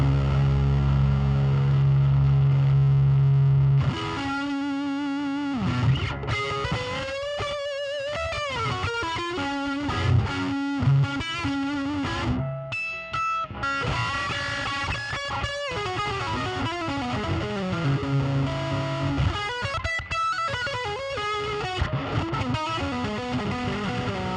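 A distorted electric guitar through a Marshall amp's dirty channel plays loud, crunchy riffs and sustained notes after a brief steady hum, overdriven amp tone throughout.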